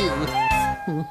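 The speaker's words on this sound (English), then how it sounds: "A tiger from the jungle, or a cat that lives with you." A cat meows in two or three close, clear calls, loud and near, with rising and falling pitch and no other sound around them.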